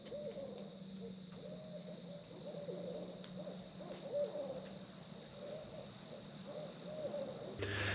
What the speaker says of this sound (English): the birds start chirping, and the hoot owls get going.